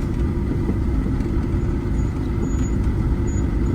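A car moving slowly along a rain-damaged rural road to a temple site, a steady, close, broadband rumble of engine and road noise running throughout with no talk.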